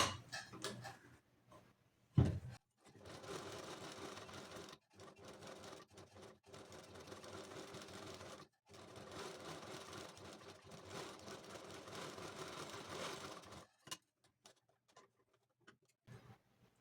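A domestic sewing machine stitches a blouse neckline in two long, even runs separated by short pauses, quiet and close, with small clicks between bursts and no voices.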